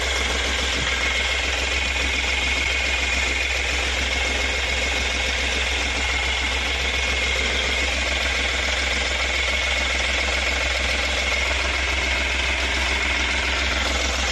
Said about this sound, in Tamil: engine noise